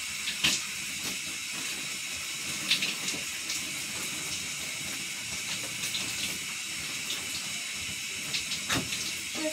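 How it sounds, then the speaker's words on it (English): Shower water running steadily in a bathroom, a constant bright hiss with a few faint knocks and splashes, no talking. "First, still in the shower."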